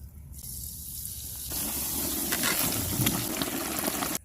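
A released crappie hits the water with a splash, followed by a loud rushing, gushing wash of water that fills the clip and cuts off abruptly.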